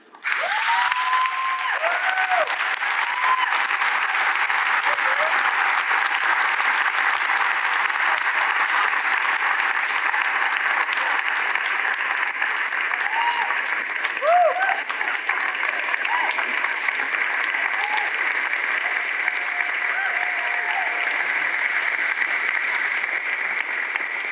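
A graduation audience breaks into loud, sustained applause for an award recipient at a school ceremony. The dense clapping holds steady for over twenty seconds, with scattered cheers and whoops rising above it.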